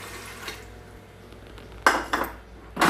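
Soaked rice, pigeon pea lentils and moong dal are stirred with water in a kitchen pot. A soft wet swish gives way to a few sharp clinks of a utensil against the rim.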